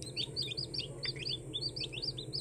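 Newly hatching chick peeping from inside a cracking shell, a rapid run of high, thin chirps repeating steadily, close and clear over a low background hum.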